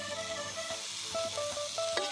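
Pumpkin leaves, crushed coconut, garlic and cumin tip into a hot pan for a Kerala leaf thoran, giving a steady sizzle and light stirring scrapes with small clinks, close and continuous with no talk.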